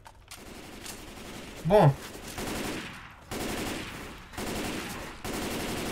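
Gunfire in the Left 4 Dead 2 video game inside a shopping mall: a loud brief burst near the middle, then several sustained blocks of rapid automatic shooting, with someone talking over the action.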